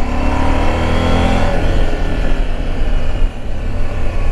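A 2019 KTM 790 Adventure motorcycle revs hard through quickshifter gear changes, a loud steady engine drone with a pitch shift around the middle and constant road and wind rush.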